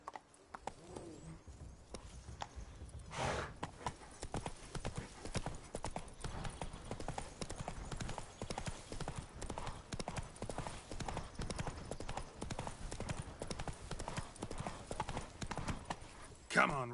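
Hooves of Roach, a horse in The Witcher 3 on PS5, clip-clop in a steady fast galloping rhythm throughout, close and fairly loud, with a brief whinny and a voice speaking near the start and end.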